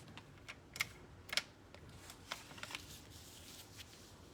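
A paper trimmer slicing designer series paper for card panels while making a card, giving a few short, close, faint swishing cuts and light clicks in a quiet room.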